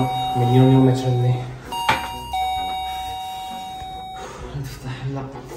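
A doorbell rings with a clear two-tone chime at a family home, sounding close and loud, while people talk and shout over it before and after the ring.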